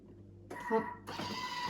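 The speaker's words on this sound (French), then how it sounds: "un turbo 2 fois avant de venir le mixer" A food processor kicks in on turbo pulse twice while making Moroccan chebakia honey biscuits, each burst a sudden loud whirring roar that stops abruptly.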